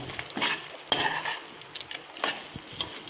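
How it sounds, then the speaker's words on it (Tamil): Clinking and scraping of a utensil stirring spices in a pan for chicken pepper fry, irregular soft knocks and rattles over a quiet kitchen background. "போட்டு ஸ்டவ்வை பற்ற வச்சு இதை போட்டு நல்லா ஒரு கிளறுங்க."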